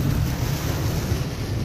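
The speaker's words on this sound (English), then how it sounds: "You can see my truck throwing water." Pickup truck driving through floodwater on a flooded roadside ditch during a flash flood, its tires throwing water in a steady, loud rushing wash mixed with wind buffeting the microphone, continuous with no pauses or speech.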